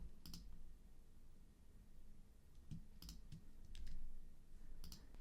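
Computer keyboard keys clicked as a copy shortcut is pressed, a few quiet separate taps spread over several seconds, close by, with no talking.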